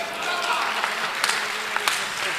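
Audience at a Hindi poetry recital applauds, a dense wash of clapping with a few sharper claps standing out, sustained and fairly close throughout.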